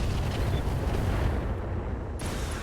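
Mech weapons fire on Locusts in the video game RogueTech, a dense, continuous rumbling roar of explosive impacts and blasts, loud and sustained throughout with no talking.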